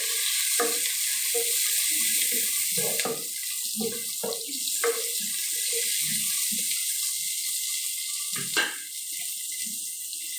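Capsicum and garlic fry in oil for a fish curry, a steady close sizzle running throughout with scattered stirring clicks and scrapes of the spoon against the pan.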